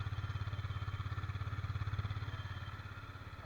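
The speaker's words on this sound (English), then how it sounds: "So this is what the firing is like of the Husqvarna." Husqvarna Svartpilen 250 motorcycle engine idling just after start-up, a steady low throbbing pulse of rapid firing beats, close and continuous for the whole stretch, easing slightly toward the end.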